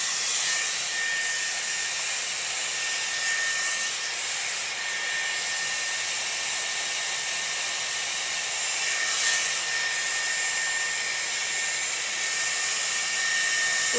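A Dyson Airwrap blows steadily at the roots of hair, a continuous close whooshing hiss of airflow and motor whine that holds level throughout with no talking.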